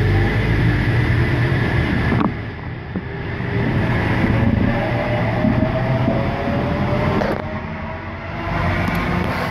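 A Sydney H set train pulls away from Tuggerah station with a loud, close rail rumble and a rising motor whine. Its sound swells and dips as it moves off, and nobody speaks.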